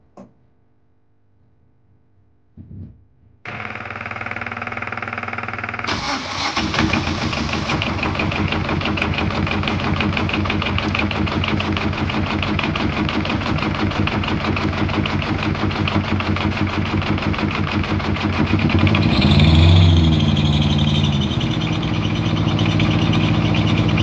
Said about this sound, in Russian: попробуем двигатель запустить